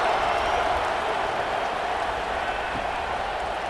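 Steady, loud stadium crowd roar from fans in the College Football 26 video game, a continuous wash of cheering noise with no breaks across the whole stretch.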